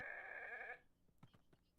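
A Minecraft goat gives one short, buzzy, nasal bleat, close and fairly clear, followed by a few quiet clicks and taps.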